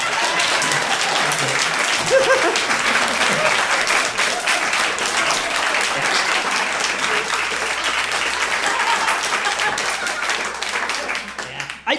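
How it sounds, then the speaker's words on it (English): Sustained audience applause at a stand-up comedy show, a dense roar of clapping from a crowd, steady and loud throughout with no speech over it. "Clap or I'll relapse."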